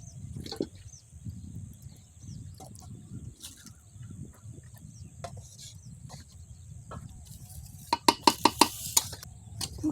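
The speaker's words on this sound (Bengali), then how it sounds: "ভাজা মাংসটা ভালো করে কষে নিয়ে তারপরে আমি বিরিয়ানিটা বানাবো" Fried chicken stirred in a pot for biryani: intermittent scraping and soft knocks of a spoon against the metal pan, with a quick burst of sharp clinks near the end over a quiet background with faint birds.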